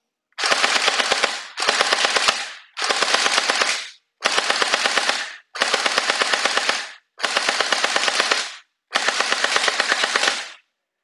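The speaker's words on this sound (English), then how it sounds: "Let's go ahead and put it in fully automatic now. See how nice that shoots." A Noxew M4 gel ball blaster firing fully automatic: seven separate bursts, each about a second long, with rapid, evenly spaced mechanical shots and short silent gaps between bursts, loud and close.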